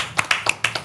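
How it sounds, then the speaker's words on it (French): A few separate, sharp hand claps from a small audience at a sports event, about five distinct claps spread unevenly across under a second, fairly close and alone. "Merci, on applaudit."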